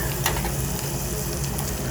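Beef short ribs searing in a very hot pan at 550 degrees, a steady, close, loud sizzle and crackle of fat spitting continuously with small pops throughout.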